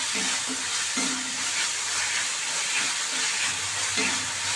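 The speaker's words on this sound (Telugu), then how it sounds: "ఇదండి, ఇది ఆనియన్స్ అయితే కాస్త ఫ్రై అయింది కదా" Onions fry in a pan with salt and turmeric, a steady bright sizzle broken by regular scrapes and stirs, close and continuous with no talking.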